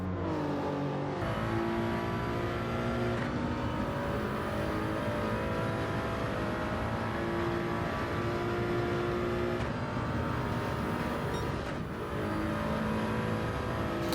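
Race car in Gran Turismo 7 at Monza, a continuous loud engine drone with gear shifts and revs rising and falling through braking and down the straight, other cars audible around it, no speech.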